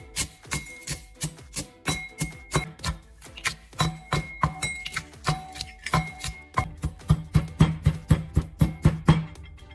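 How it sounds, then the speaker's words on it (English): Dried eggshells crushed in a mortar make a steady run of sharp, close cracking taps and grinding crunches, about two strikes per second, with faint tonal ringing between hits and no voice. "After drying, bring the shells back and place them into a mortar. Begin crushing them into smaller pieces."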